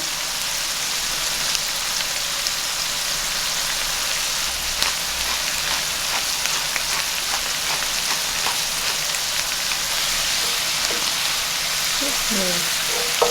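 Tri-tip steak and mushrooms cooking down in a pan give a steady, dense sizzle and crackle that runs throughout, with a few faint clinks near the end.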